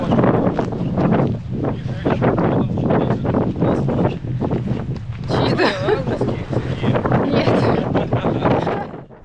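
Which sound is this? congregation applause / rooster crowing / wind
wind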